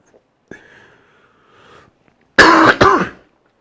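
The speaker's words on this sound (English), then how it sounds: "my cough coming back" A person coughs and clears their throat: a faint rasp first, then two loud, sharp coughs in quick succession, close and alone.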